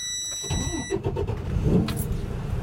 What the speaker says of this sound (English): Brakes on, neutral, clutch, start the truck.